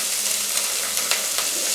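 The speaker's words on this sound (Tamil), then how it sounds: "இதில் வெட்டி வச்சிருந்த இந்த வெங்காயம் பச்சை மிளகாயம் இதில் சேர்ப்போம்" Chopped onion and green chili frying in hot oil in a village kitchen, a loud, dense, steady sizzle with a couple of brief stirring touches.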